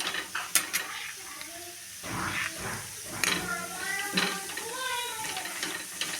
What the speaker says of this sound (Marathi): हे मेथीच्या भाजीसाठी मी दळून घेतलेले आहे आणि तेलात करपून घेते ही थोडंसं